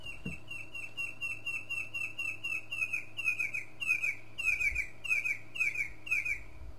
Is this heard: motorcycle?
no